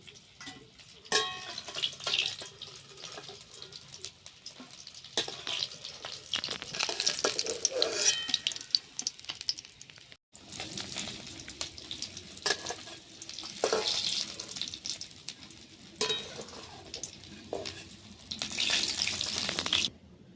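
Bata fish fried in oil in a home kitchen pan, a steady crackling sizzle running throughout with brief utensil clatter and stirring, close and moderately loud, with a short pause midway.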